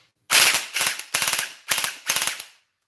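A gel blaster fires into a chronograph in five close, sharp bursts, each a quick rattling string of shots, separated by brief silences.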